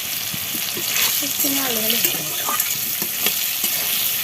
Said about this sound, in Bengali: দেখো আমাদের চিকিটা পটল আর আলুগুলো এইভাবে ভাজা হয়েছে